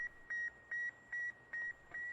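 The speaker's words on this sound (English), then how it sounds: "As the world listens to the constant beeps emitted from space" Radio beeps from the Sputnik satellite, six evenly spaced electronic tones about every 0.4 seconds, clear against a faint hiss of static, with no talk.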